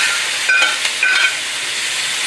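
Vegetables sizzling in a hot wok with beef and soya bean paste, a steady frying hiss with two brief scraping stirs near the start; no talking.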